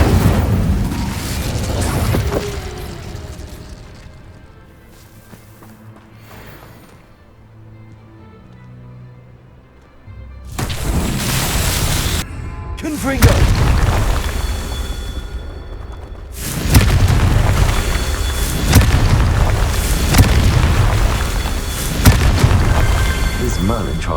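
The Incendio fire spell from Hogwarts Legacy is cast in loud, booming bursts of flame that roar over a quieter rumbling stretch, with several heavy blasts following in close succession.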